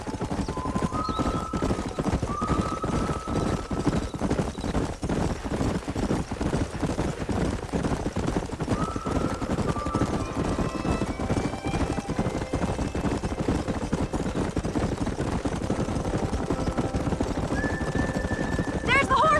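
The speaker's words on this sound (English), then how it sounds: "There's the horses!" Horses clip-clop steadily through Red Dead Redemption, with occasional whinnies above continuous hoofbeats and game ambience; no one speaks.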